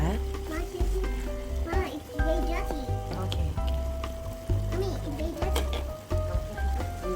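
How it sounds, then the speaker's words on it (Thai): Mushrooms stir-fried in tomato sauce for spaghetti bolognese, with steady sizzling and spatula scraping in a pan throughout, some background tonal sounds over it. "ผัดให้เห็ดสุกทุกอย่างเข้าเครื่องกันนะคะ"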